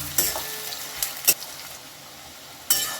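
Onions fry with a pinch of sugar for a Bengali meat curry, a soft sizzle under a few sharp scrapes and clinks of stirring, spaced out over a few seconds.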